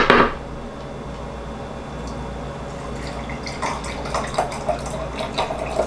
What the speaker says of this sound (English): I'm dipping my strainer in this water because I'm trying to do this quickly.